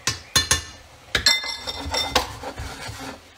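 Metal utensil clinks and scrapes against a pan as penne with tuna is stirred, giving several sharp clanks followed by softer rubbing and clatter, close and with no talking.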